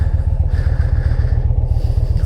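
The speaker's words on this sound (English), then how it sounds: "It's a good way to start the day with a motorcycle ride." A 2020 Indian Challenger motorcycle thumps with a low, steady, rhythmic engine pulse, loud and close throughout the short stretch.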